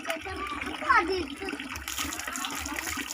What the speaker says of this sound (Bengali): সবাই এখন স্নান করছে